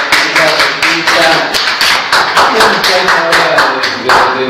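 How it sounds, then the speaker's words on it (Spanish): A studio audience at a cultural program claps loudly and close by, in a dense burst of many hands with rhythmic accents, while voices mix in underneath. "Un aplauso, por favor."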